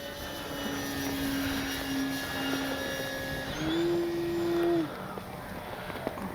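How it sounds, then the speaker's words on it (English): A Flex RV8 RC model airplane, electric-powered, flies on its first outing, its motor giving a steady whine that shifts pitch with throttle, moderately loud and passing at a distance. "This is more your traditional sport plane flying."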